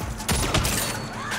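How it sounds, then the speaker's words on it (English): Gunfire in the video game Saints Row during a security breach at a museum exhibit, with two loud bursts of shots standing out over a dense, noisy game soundscape. "Stop shooting!"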